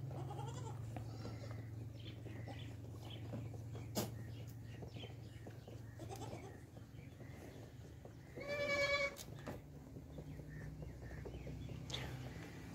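At a goat farm in Pakistan, nanny goats with kids about 25 days old, Nagri and black Amritsari breeds, bleat once or twice over a steady low hum and faint birdsong.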